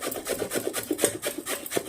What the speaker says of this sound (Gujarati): હવે આપણે ગાજર છીણી લેવાનું છે.